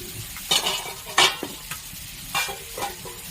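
Soybean chunks stir-fried in a pan for an aloo soyabean curry: a few distinct scraping, stirring strokes with bursts of sizzle, close and fairly loud, with no talk.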